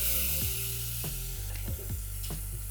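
Tomato pulp sizzles steadily in a hot pan with garlic chili paste, a continuous close frying hiss broken by several soft knocks of a spoon stirring against the pan.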